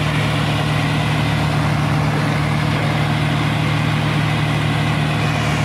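Tractor engine running under load as it pulls away, a loud, steady low rumble with an even drone that holds for the whole stretch, with no voices.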